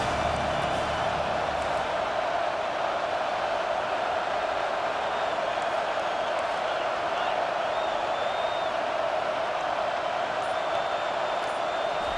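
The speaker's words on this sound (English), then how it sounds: "Decibels rising as the crowd gets behind this defense on third down." A stadium crowd roars steadily in the College Football 25 video game, a dense, continuous wall of cheering during a third-down defensive play with no pauses.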